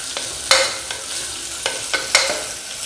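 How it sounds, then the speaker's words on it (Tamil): Small onions sautéing in a pan for a pressure-cooker chicken curry give a soft continuous sizzle, with a few sharp scraping stirs of a spoon against the pan. "வெங்காயம் கொஞ்சம் வதங்கட்டும்."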